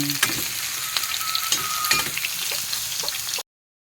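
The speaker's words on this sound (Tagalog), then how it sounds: "Pinirito ko muna yung talong." Eggplant sizzles steadily in hot oil in a pan, a continuous crackling fry with occasional stirring clinks, close and moderately loud before cutting off abruptly.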